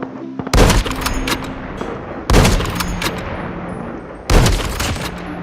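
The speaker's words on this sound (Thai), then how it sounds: "เฮ้ยมีคนนอกตรงนู้นเห็นปะ ยิงกันอยู่นะ" Three loud, close gunshot bursts from Call of Duty Mobile, spaced about two seconds apart, each a sharp blast followed by a short rumbling tail, with quiet game ambience between.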